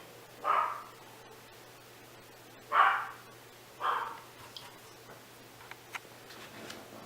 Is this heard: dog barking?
yes